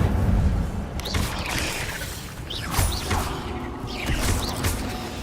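Incendio fire spell cast in a Hogwarts video game, a couple of whooshing bursts with rising tonal swooshes over a dense rumbling game soundscape, repeated about three times at moderate loudness.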